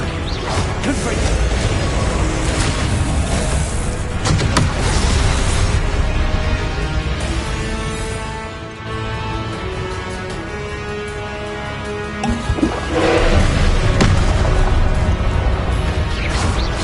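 Confringo fire spell explosions in Hogwarts Legacy, heavy booms and crashing bursts erupting repeatedly amid combat clatter and dense game music, loud and close.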